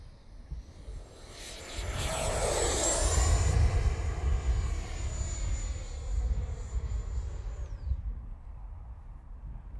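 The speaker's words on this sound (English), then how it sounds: "This is a nice jet. I like it. Flies good." An XFly Alpha 80mm 12-blade electric ducted fan RC jet roars past, a loud high-pitched whine that swells to a peak near the middle, drops in pitch as it passes, and fades away, with no talk.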